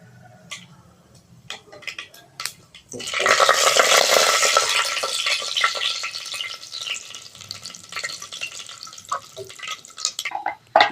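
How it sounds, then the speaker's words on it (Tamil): Mustard seeds and urad dal splutter in hot oil for a green chilli mutton curry, a sudden loud crackling sizzle that rises sharply and stays dense, with faint clicks and pops before it starts. "கடுகு பொரியட்டும்"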